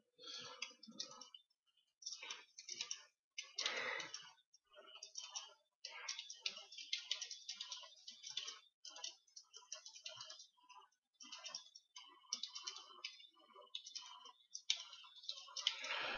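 HTML code being typed on a computer keyboard: quick, uneven bursts of light key clicks with short pauses between them, close and fairly quiet, with no talking.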